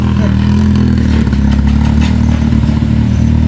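A modified motorcycle engine runs loud and steady, a constant low rumble with slight rev fluctuations and some clatter throughout.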